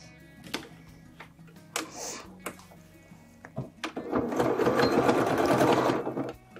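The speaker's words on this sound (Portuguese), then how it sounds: "E agora a gente vem e passa uma costura aqui." Sewing machine stitching a seam on fabric for a small toiletry bag, heard as scattered clicks and short whirs before a sustained close rattling run of stitching.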